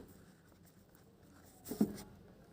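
Pen or pencil scratching out an answer on paper for a class 3 exercise, a faint soft rustle that swells into a brief firmer stroke near the end, alone with no talk.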